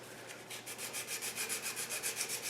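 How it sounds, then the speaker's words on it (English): Turned wood on a lathe is sanded with 150 grit sandpaper, a steady rhythmic scratchy rubbing with even back-and-forth strokes, close and continuous. "I'm going to sand a little bit with the grain just to get some of the sanding marks out"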